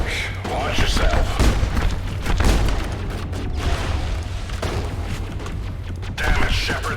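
Sustained combat gunfire in the video game Mass Effect, with heavy booming blasts and rapid shots layered into a loud, continuous barrage that never lets up.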